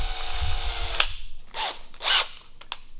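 A power drill spinning wires to twist them whirs briefly, then stops, followed by a few short bursts of spinning and clicking, close by with no talking.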